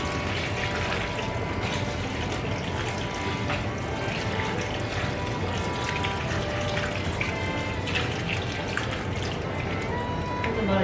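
About a gallon of water is poured onto compost in a garden, a continuous splashing, trickling wash that runs steadily throughout while people talk intermittently.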